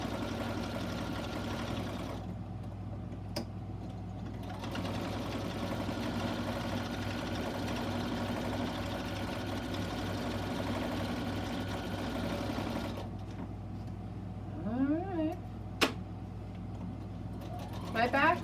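A sewing machine runs continuously while stitching a box bag, giving a steady mechanical whir with a brief pause for a back stitch, and a few short noises near the end.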